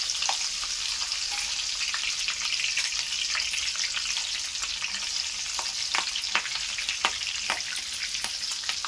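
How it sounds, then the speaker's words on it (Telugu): Sliced green chillies frying in hot oil after chicken pakodi, a steady dense sizzle with crackling pops throughout, close and fairly loud. "ఇప్పుడు మనం ఇదే ఆయిల్లో కొన్ని పచ్చిమిర్చి కూడా ఫ్రై చేసుకుందామండి."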